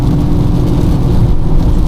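A car accelerates uphill on a rainy road, its engine giving a dense, continuous low rumble with a slight rising strain and no voices.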